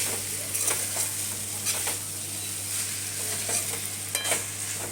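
Potato poha with turmeric stirred in a pan, with a steady sizzle and soft scraping strokes that come and go at close range. No one speaks.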